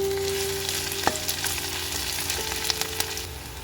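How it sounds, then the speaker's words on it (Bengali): Crushed ginger and onion frying in a pan, giving a continuous close sizzle with occasional light taps and stirs and no talking. "আদা আর পেঁয়াজটা খুব সুন্দরভাবে ভাজা হয়ে গেছে কাঁচা গন্ধ চলে গেছে"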